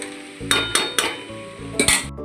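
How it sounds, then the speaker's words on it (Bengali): A spoon stirs lau shukto, a bottle gourd dish with batasa sugar drops, in a metal pot, several loud clanking scrapes in an uneven rhythm, close by and with no voices. "দুটো বাতাসা বাতাসা দিয়ে ভালো করে নাড়াচাড়া করে নিলাম"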